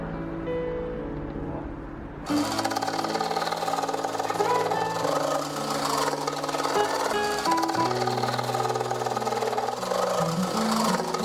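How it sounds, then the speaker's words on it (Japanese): A jigsaw cuts the ventilation fan opening in a wall panel of a kei truck camper build. After a quieter start, the motor kicks in with a loud, steady buzzing whine and rattling blade that runs continuously and close by. "換気扇の部分は印をつけてジグソーで切り抜きます。"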